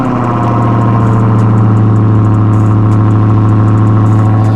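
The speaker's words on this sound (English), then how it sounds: "So I'm gonna get it started up for y'all real quick" A 2020 widebody Dodge Hellcat V8 idles steadily and loudly up close with a deep, even rumble, its stock exhaust soon to get catless midpipes; no voices are heard.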